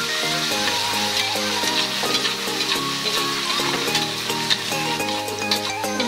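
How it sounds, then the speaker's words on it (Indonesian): Spice paste sautéing in hot oil in a pan for a capcay kuah vegetable soup, giving a steady, close crackling sizzle with bursts of stirring, over continuous background music. "saya goreng dulu tumis dulu bumbunya ini juga udah dipotong-potong ini udah saya panasin minyaknya langsung pasang bumbunya aduk sebentar"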